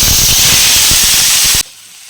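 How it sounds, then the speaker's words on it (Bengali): Loud, intense sizzle of cut kohlrabi and potatoes dropped into hot oil in a kadai, a sustained hissing spatter close to the pan that cuts off abruptly to near silence. "গরম তেলে কেটে রাখা ওলকপি আর আলু দিয়ে দেবো।"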